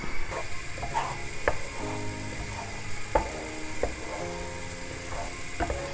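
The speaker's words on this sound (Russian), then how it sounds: "Ждем, когда он чуть-чуть схватится, и потом будем мешать его лопаткой." An omelette fries in a pan while a spatula stirs it, giving a steady sizzle broken by sharp scraping clicks and taps at irregular intervals, with no talking.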